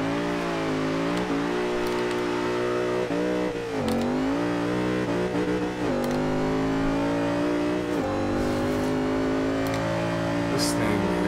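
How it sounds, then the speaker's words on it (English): Supercharged Mercedes-Benz SLR engine in the racing game Forza Horizon 2, revving hard and climbing in pitch again and again with quick dips between gear changes, played loud under a voice talking over it. "Man, that supercharger sounds awesome."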